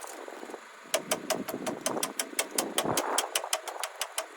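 An engine idles after throttling down, a close, rapid, even ticking knock of about fifteen regular beats over a low rumbling drone.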